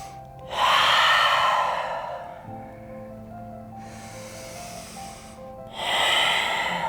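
Loud, close breaths come through the nose and mouth during a yoga vinyasa flow, two long forceful exhalations with a softer breath between them over a quiet background.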